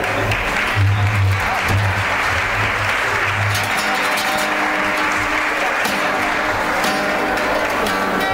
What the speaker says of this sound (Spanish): Rosa María, también un aplauso para ella